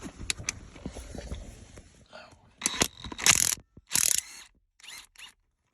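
A ratchet wrench loosens a 17 mm nut on the shifter of a 1995 Ford Ranger. Quick bursts of close metallic clicking follow some quieter handling noise and then stop.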